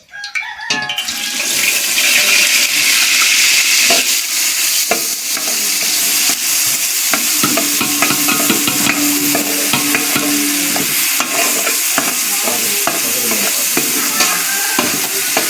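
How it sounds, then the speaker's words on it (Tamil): Onions and green chillies sauté in hot oil in a pan, a loud, continuous close-up sizzle overlaid with constant rapid spatula scraping and occasional squeaky metal strokes throughout, with no talking. "வெங்காயம் பச்சை மிளகாய் வந்து நல்லா எண்ணெய் கசிஞ்சு வர வரைக்கும் நல்லா வதக்கி"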